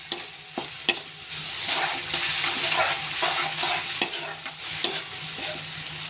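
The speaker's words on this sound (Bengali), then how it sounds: "দেখো আদা জিরেটা আমার ভালো করে ভাজা হয়ে গেছে" Ginger and cumin frying in a pan, a steady close sizzle broken by repeated clicks and scrapes of a stirring spoon against the pan.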